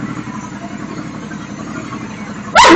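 A vehicle idles with a louder aftermarket exhaust, giving a steady low rumble throughout, until a sharp, loud burst of broadband noise erupts right at the end.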